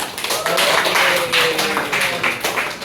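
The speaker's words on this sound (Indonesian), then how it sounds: "tepuk tangan buat kita semua ya" A classroom of students claps together in a loud, close burst of brisk, uneven applause that continues for a few seconds, with a faint voice underneath.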